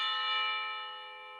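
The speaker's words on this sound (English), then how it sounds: "Like a chime from church." A single church bell chime rings out clear and sustained, its bright tone slowly fading over a second and a half with no talk over it.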